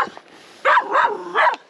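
Guard dogs at a rural home belonging to an elderly woman who lives alone bark fiercely, three close, loud barks in quick succession after a brief quiet moment, with no talking.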